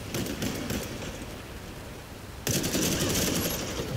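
Rapid automatic gunfire crackles nonstop in a shooter video game, growing louder and denser partway through with no pause.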